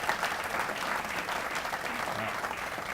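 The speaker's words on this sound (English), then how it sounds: "how about a round of applause for Betsy and the wonderful job she does" A steady, dense round of applause from a dinner crowd at a chamber of commerce kick-off dinner and awards night. It holds at an even level throughout with a faint murmur of voices underneath.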